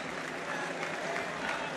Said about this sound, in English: as he gets an applause there